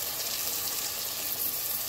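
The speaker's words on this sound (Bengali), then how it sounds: "এখন আরও 2 থেকে 3 মিনিট এটাকে তেলের মধ্যে ভাজা ভাজা করব।" Spices and green chili fry in oil with a steady, close, unbroken sizzle that stays even throughout, no voices.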